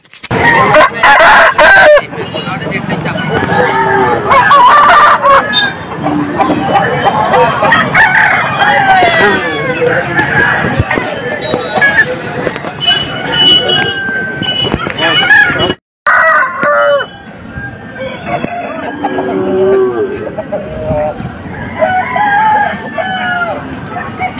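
Many roosters crow over and over while chickens cluck at a chicken market, a loud, dense chorus of fowl close by with only brief pauses.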